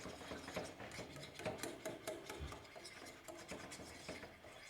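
Chocolate cake batter for an eggless, oven-free cake is stirred in a pot, with a steady run of scraping and clinking strokes of the spoon close by and no voices.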